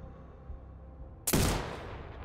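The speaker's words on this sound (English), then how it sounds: "Why do I keep shooting over him?" Sniper rifle gunshot in Sniper Ghost Warrior Contracts 2, a single loud sharp crack followed by a long rolling echo after a quiet ambient lead-in.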